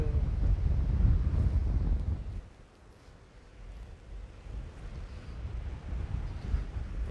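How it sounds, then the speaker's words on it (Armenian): Strong coastal wind blows near wind turbines by the sea, buffeting the microphone with a steady roar of broadband noise that swells and eases; no voices are heard. "հիմա հենց հիմա ուժեղ քամի է"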